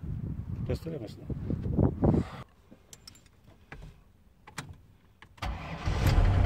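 A 1977 Chrysler Yorker fitted with a Mercedes 500 engine cranks and fires up close by, with bursts of engine noise, quieter gaps and sharp clicks. People talk over part of it.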